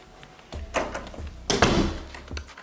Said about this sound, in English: Lock the door because I'm home alone.